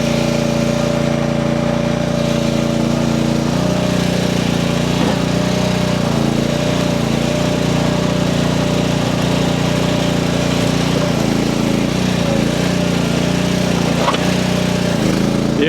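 A tiny Chinese mini skid steer runs its small engine close by, a loud steady drone with a faint shift in load partway through, ongoing without talk.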